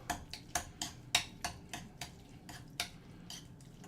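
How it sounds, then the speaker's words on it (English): A utensil mixing a meat filling in a bowl, a series of light clicks and taps against the bowl at an irregular, roughly steady pace, close but quiet, no talking. "Just gonna mix that up."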